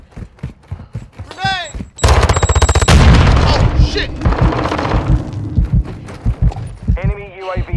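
Video-game combat with a grenade blast and rapid bursts of gunfire, loud and close, mixed with rattling reload clatter and shouting voices throughout.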